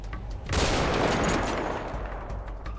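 A burst of gunfire in a GTA 5 roleplay video game, a loud dense fusillade starting sharply and fading into a lingering rumble, with no talk.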